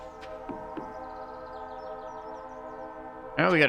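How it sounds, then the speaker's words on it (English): A train approaches in the modded farming video game Stardew Valley over steady, sustained in-game music, its whistle sounding abruptly and loudly in the final moments. "Got a train coming through."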